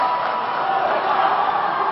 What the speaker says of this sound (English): U.S. team cheering